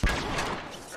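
A shotgun blast in The Last of Us video game, a single sharp close report that decays quickly into a brief rumbling tail.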